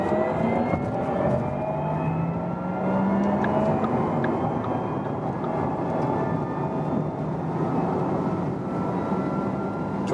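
Porsche Taycan 4S electric car accelerating from 80 km/h on the Autobahn, a steady loud broadband road and wind roar with a faint rising electric-motor whine, no talking.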